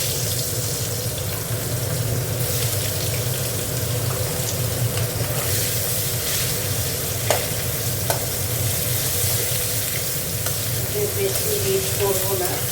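Onion sizzles in hot oil in a pan while being stirred, making a constant close crackle and hiss broken by occasional scraping clicks of the utensil against the pan.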